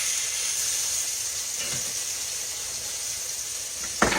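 Country fried steak frying in a pan, a steady close sizzling hiss that holds evenly throughout, with a sharp clatter right at the end.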